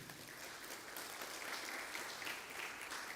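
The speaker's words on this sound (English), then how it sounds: "please a warm round of applause for the NCDMB" Audience applause at a tax awareness workshop, a steady wash of many hands clapping at moderate distance, continuous and fairly faint throughout.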